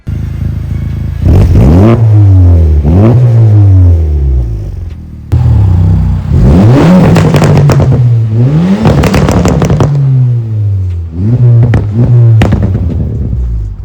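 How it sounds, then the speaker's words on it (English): A 2024 Honda Civic Type-R FL5 with a PLM full titanium catback exhaust, downpipe, front pipe, turbo inlet pipe and Hondata tune revs loudly and close several times, rising and falling, with crackling pops on the overrun. "It's full titanium catback exhaust from PLM."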